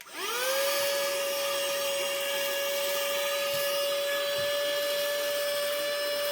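A small car vacuum cleaner runs close up with a strong, steady whine that rises quickly as it spins up, then holds a constant high pitch while rice is sucked in. Faint rattles of grains sound over the motor.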